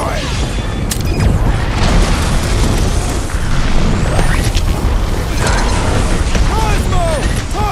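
Fireworks explode in the Guardians of the Galaxy video game, a dense barrage of booms, pops and crackling bursts layered with game sound effects and shouted dialogue.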